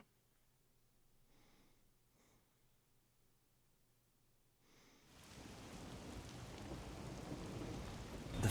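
Rain in the video game Master Detective Archives: Rain Code swells in halfway through, a dense steady hiss of downpour that grows louder and holds, after a quiet stretch with faint soft tones.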